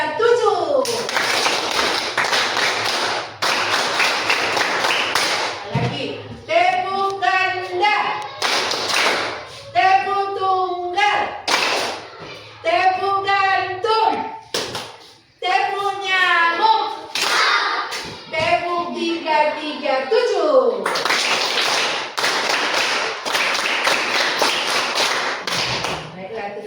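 Children clapping in rhythmic patterns, including the 3-3-7 pattern, with crisp bursts of claps in groups separated by short pauses, loud and close, with speech between the clapping rounds.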